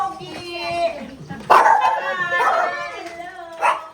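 A dog yips and barks excitedly several times, close by, with whimpering tones in between while people talk around it at a home gathering.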